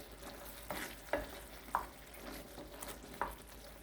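Swedish meatballs in sauce are stirred in a pot with soft, irregular scraping strokes over a faint, quiet sizzle.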